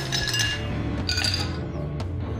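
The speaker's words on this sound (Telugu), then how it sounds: "ఇప్పుడు సర్వ్ చేసుకోవడానికి ముందుగా గ్లాసుల్లో కొన్ని ఐస్ క్యూబ్స్ వేసుకోవాలి" Ice cubes dropped into serving glasses for mint lemonade, giving a few bright glassy clinks and clatters, close and fairly loud over a steady low background hum.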